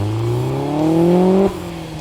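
A 1993 Toyota MR2 GTS sports car engine with a homemade exhaust revs up with a rising exhaust note, then drops sharply as the throttle lifts, loud and close.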